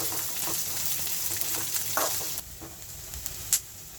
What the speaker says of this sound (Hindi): अब इसमें ये मूंगफली डालेंगे, इसको भी फ्राई करेंगे।